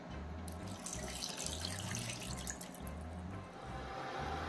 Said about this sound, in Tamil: தண்ணி முக்கால் சொம்பு வச்சுருக்கேன், இதை ஊற்றிக்கலாம்.